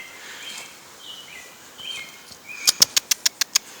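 A bird flutters its wings with soft, faint rustling, followed by a quick run of about seven sharp, evenly spaced bright chirps near the close.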